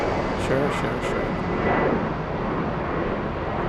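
A Lufthansa plane departing Frankfurt Airport for Hanover rumbles as a steady broad engine roar, loud and sustained throughout, with a brief spoken word over it.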